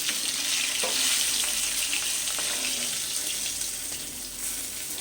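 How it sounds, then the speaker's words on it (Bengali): Fish heads frying in hot oil for a cabbage dish, a continuous bright crackling sizzle with a few sharp pops and spatula knocks, close and steady throughout, no voices. "মাছের মাথাগুলোকে এবার আমি উল্টে দিচ্ছি মাছের মাথাগুলো ভাজা হয়ে গেছে"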